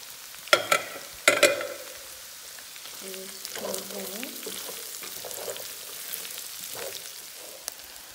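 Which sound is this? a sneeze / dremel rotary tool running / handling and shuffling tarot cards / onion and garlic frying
onion and garlic frying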